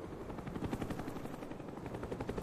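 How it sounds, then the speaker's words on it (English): Cobra attack helicopter arriving in a Call of Duty: Black Ops team deathmatch, a steady close rotor thump with a rhythmic pulse and mixed gunfire sounds throughout. "Friendly Cobra inbound."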